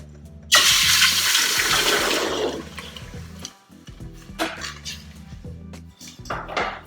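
Water gushes loudly into a cooking pot for tepache, a rushing splash that fades after a few seconds, followed by clinks and knocks of pots and utensils in a kitchen.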